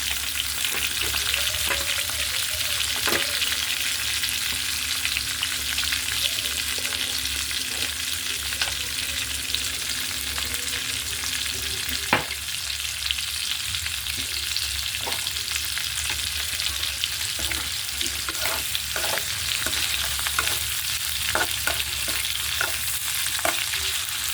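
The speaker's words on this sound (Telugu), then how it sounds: "ఎండు నెత్తలు కూడా కొంచెం లైట్గా వేపుకుందాం." Dried fish fry in a pan with oil, giving a loud, steady sizzle throughout, with occasional clinks and scrapes from stirring.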